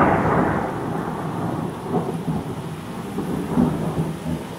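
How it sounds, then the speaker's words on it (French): A passing thunderstorm rolls over a house, with steady rain falling and several deep thunder rumbles swelling and fading, loud at first, then continuing as a broad wash with no talking. "c'est un bel orage qui est en train de passer là par chez nous, il pleut"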